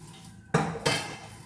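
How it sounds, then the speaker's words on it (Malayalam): Two sharp metallic clanks about a third of a second apart as rice and lentils go into a pressure cooker for Vishu kanji, close and brief over a quiet kitchen background. "നമുക്ക് കുക്കറിലാണ് വേവിക്കണത്."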